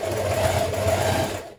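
A sewing machine stitches knit sweater fabric right along the edge, a steady close whirring run that winds down and stops at the end.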